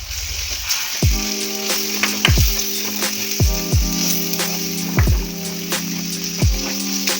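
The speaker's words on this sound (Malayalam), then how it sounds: "മുളക് പൊടി, മഞ്ഞൾപ്പൊടി, ഗരം മസാല, മല്ലിപ്പൊടി ഇത്രയിട്ട് നമുക്കൊന്ന് വഴറ്റിയെടുക്കാം" Chili powder, turmeric, garam masala and coriander powder sizzle in a hot pan for squid curry, a steady fry hiss broken by repeated scraping strokes of a spoon against the pan, close and fairly loud.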